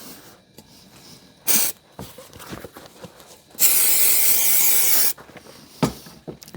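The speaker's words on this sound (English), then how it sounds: "Good spray there." A spray can hisses while a dining chair is being reupholstered: a short burst is followed by a longer, steady spray of about a second and a half, close and loud amid quieter handling noises.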